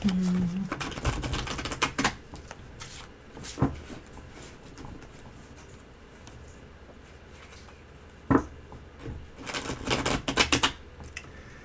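Rapid clattering and flicking of tarot cards being shuffled on a table, in several bursts with quieter rustling and handling sounds between them.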